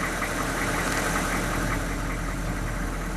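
A 6.5 turbo diesel engine, started after sitting six years, runs steadily with a loud rough clattering idle and constant mechanical vibration, close and unbroken.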